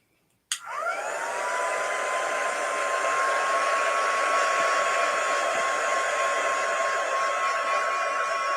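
A hair dryer clicks on and then blows steadily, with a constant whooshing whine, to dry chalk paint on a craft piece.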